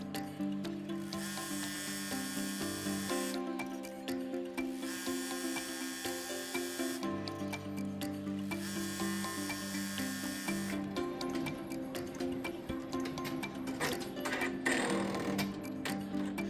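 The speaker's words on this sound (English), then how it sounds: "So next we are going to be embroidering the batting." An embroidery machine stitches through fabric and batting for Valentine pocket hearts, a steady fast mechanical whir and rapid ticking that runs close and continuous, shifting pitch slightly as the stitching changes.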